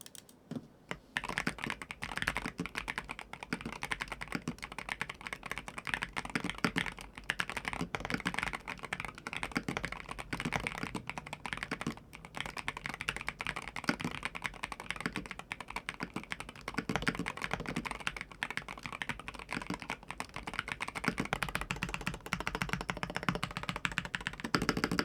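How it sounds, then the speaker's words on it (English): A Morkblade MK60 magnetic keyboard is typed on continuously with its switches and keycaps fitted, producing dense, fast, even clacking that is close and steady throughout, with no talk. "here's a little sound test with the switches and the keycaps on"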